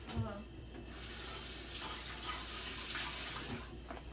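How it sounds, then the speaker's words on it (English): A kitchen tap runs steadily while a spoon is rinsed under the stream, the water gushing evenly into the sink at close range for several seconds, with faint clinks of metal. "Let me wash this spoon off."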